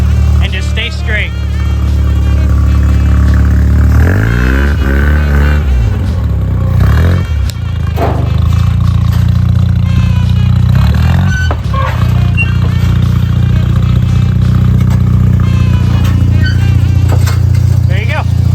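A 1985 Mazda RX7 GSL rotary with a Weber 40 DCOE carburetor idles and blips its throttle while reversing off a trailer, a loud burbling engine with revving swells, under people talking.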